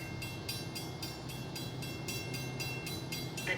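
Passenger train rushing through a station platform without stopping, a steady loud roar of wheels and rail noise with regular clicking pulses as carriages pass close by.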